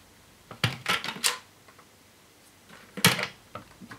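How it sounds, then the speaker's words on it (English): The bin door on a 2015 Dyson DC40 Multifloor vacuum cleaner opens with a quick cluster of plastic clacks and rattles near the mic, then a sharper snap a few seconds later. "bin door at the bottom that you activate from the top"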